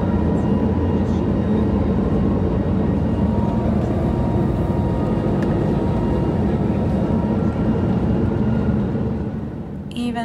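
Steady, loud roar of a Lufthansa airliner's engines during takeoff, heard from inside the cabin as a dense continuous rumble that holds level before easing slightly at the very end.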